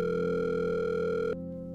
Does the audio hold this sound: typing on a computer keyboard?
no